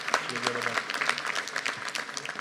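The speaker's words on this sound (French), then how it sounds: "je vous demande encore une fois d'applaudir Amel Boudera" Applause from the crowd at a New Year's address to the town's residents, a bright patter of clapping heard alongside a voice speaking over it, uneven and fairly close throughout the short stretch.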